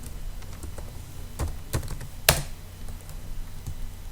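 Close computer keyboard typing in irregular taps and clicks, one louder key strike near the middle, steady and fairly quiet throughout.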